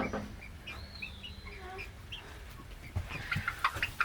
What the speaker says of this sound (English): are Polish roosters.